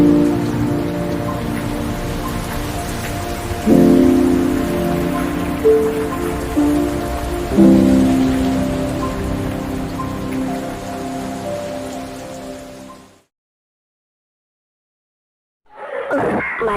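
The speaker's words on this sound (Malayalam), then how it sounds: "ഈ മഴ 2 മിനിറ്റേ നിൽക്കത്തുള്ളൂ." Steady rain patters onto the ground beneath a sustained tonal drone, swelling twice before cutting out into silence, with a brief burst returning at the end.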